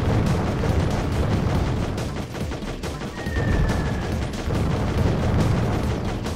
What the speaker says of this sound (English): Wait to press the right trigger to detonate nukes.